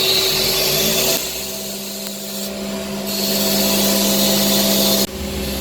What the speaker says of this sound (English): Now we're going to cut the outside profile